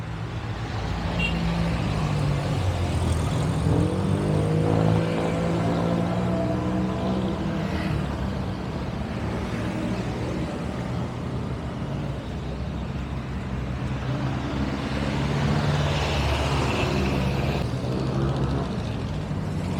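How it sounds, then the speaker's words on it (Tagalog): Idling jeepneys and road traffic fill a Baclaran terminal on Roxas Boulevard in Pasay, a steady, dense engine rumble with passing vehicles and no talk over it. "dito lang nag-aantay yung mga jeep"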